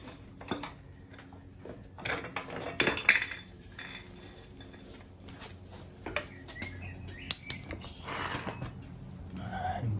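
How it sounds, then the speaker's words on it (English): Metallic clinks and rattles of a motorcycle chain being released during a sprocket swap, scattered short clanks and scrapes at close range with no talking. "Release the chain."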